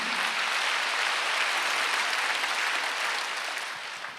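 Congregation applause at a Korean church's Sunday worship service: a steady, dense wash of many hands clapping together, sustained throughout and tapering slightly at the end, with no voices over it.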